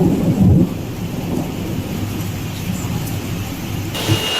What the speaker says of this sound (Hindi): एक बार फिर से बारिश ने दस्तक दी और इस बार ओले भी पड़े हैं।